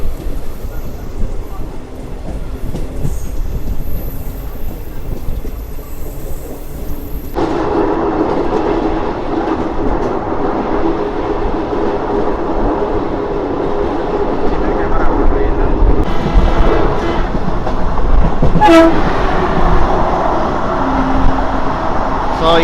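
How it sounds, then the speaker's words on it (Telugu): The Andaman Express passenger train rolls past close by, a loud, steady rumble of wheels and carriages with rhythmic clatter that swells and continues for over twenty seconds. "సో ఈ ట్రైన్ వచ్చేసి మనకు అండమాన్ ఎక్స్ప్రెస్ ట్రైన్."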